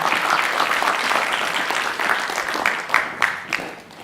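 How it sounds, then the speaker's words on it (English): Steady applause from a conference audience welcoming a philanthropy panel onto the stage, a dense wash of clapping that stays loud throughout with a few sharper claps rising near the end. "Let's give them a round of applause."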